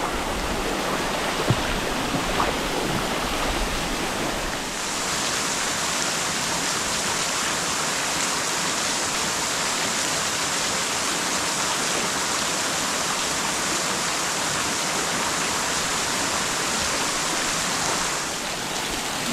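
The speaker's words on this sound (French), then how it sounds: "vous avez une petite chute d'eau" A small waterfall on a hiking trail makes a steady, loud, broadband rush of falling water that fills the whole clip without a break.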